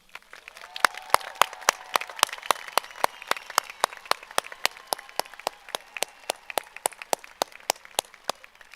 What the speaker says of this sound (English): Let's give all our graduates one more round of applause.